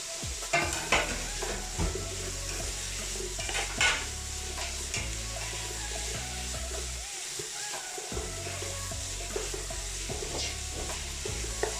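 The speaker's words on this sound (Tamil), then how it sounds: "இப்போ இதோட வறுத்து வச்ச சிக்கனை இதில் போட்டுக்கிறோம்." Fried chicken being added to a pan of sizzling fried rice and stirred, a continuous frying hiss under repeated scraping and clinking of a spatula against the pan, close and steady, with no talking.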